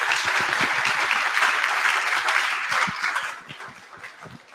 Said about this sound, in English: let's give him another round of applause to Salim Ismail.